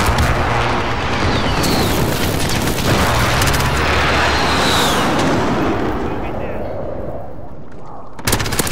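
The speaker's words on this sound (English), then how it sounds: "Allied precision airstrike incoming." Airstrike explosions pound in a shooter game, a loud, continuous wash of blasts and gunfire that gradually fades toward the end before a few sharp final cracks, with voices over it.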